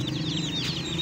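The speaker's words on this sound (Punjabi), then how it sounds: "ਇਹ ਆਪਣੇ ਚੂਚੇ ਖਰੀਦੇ ਹੈ" Baby chicks, newly bought and brightly coloured, chirp up close in rapid, high, repeated peeps over a low steady hum.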